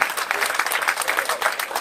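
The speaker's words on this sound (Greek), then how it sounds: "Χειροκροτήστε τον." A room of supporters claps at the opening of an election campaign office in Sitia, brisk steady clapping with a slightly rhythmic pulse for under two seconds.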